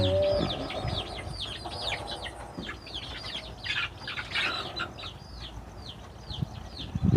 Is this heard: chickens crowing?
yes